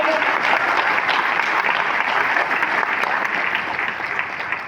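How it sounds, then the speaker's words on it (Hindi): At a business leaders' motivational event, the audience gives loud applause for three managing directors, a thick, steady crowd clapping that holds strong before tapering slightly at the end. "एक जोरदार तालियों के साथ एवरीवन, थैंक यू"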